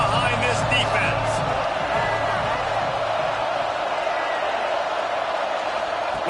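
A stadium crowd roars steadily behind a football defense on a big third down, a broad sustained wall of cheering with a few whoops, while a commentator talks over it early on.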